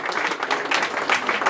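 Warm applause from an audience at a rugby friendship gathering, dense hand clapping sustained throughout at close, even loudness.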